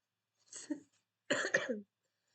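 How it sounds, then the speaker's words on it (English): Two short, close coughs from a person who is sick, a brief single cough followed by a harsher double cough in an otherwise quiet room. "And even if you're gonna hear a lot of coughing."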